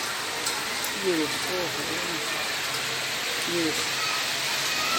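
Heavy rain falls steadily as a broad, constant wash of noise, with someone talking briefly over it.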